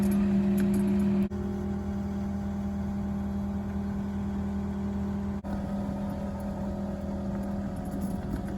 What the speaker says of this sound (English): so that we could move it each piece with the skid steer